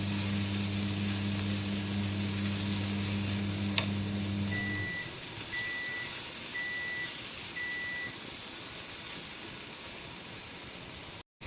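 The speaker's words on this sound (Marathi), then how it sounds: "टमॅटो थोडा घालायचा चांगलं भाजून घ्यायचं थोडं" Onion and tomato sizzle steadily in a pan for a masala pav, a continuous close frying hiss with a low hum early on and faint distant reversing beeps partway through.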